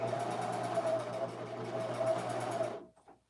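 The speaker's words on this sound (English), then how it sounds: "I'm gonna serge it" A serger stitches a seam on a dress, a steady close whir of fast mechanical stitching for about three seconds before it stops, leaving brief quiet.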